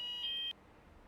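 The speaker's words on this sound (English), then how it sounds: "Sorry, the alarm again." An electronic alarm sounds one sustained, piercing high beep for about half a second and then cuts off abruptly into near silence.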